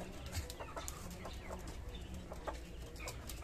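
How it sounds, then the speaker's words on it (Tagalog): Native chickens cluck in short, faint, scattered calls in a farmyard, with soft background noise and no talking. "Yun ang native na manok."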